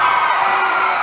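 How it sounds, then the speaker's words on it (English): An arena crowd at a cutting horse competition final roars and cheers in one brief, loud, dense burst of whoops and shouts. "Listen to that crowd."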